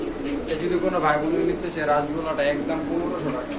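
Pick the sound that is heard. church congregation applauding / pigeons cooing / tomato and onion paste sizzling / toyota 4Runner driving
pigeons cooing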